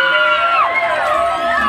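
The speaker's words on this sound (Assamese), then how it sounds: "এটা হাত চাপৰি আশীৰ্বাদ ল'ব" A crowd at a Bihu song performance shouting and cheering in a loud, steady wash of voices with no distinct pauses, a brief rising whoop standing out partway through.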